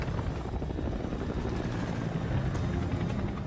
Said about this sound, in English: Pulling the thrust control to force the chopper to ascend only results in a gradual climb.